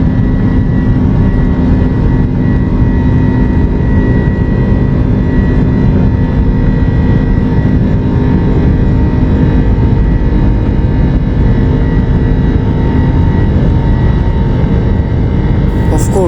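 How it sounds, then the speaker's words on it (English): Lufthansa Boeing 747 taking off from Los Angeles at night, heard from inside the cabin as a steady, loud, unbroken engine roar and hum that holds for the whole stretch with no voices. "Let's watch it, the beautiful takeoff from LA."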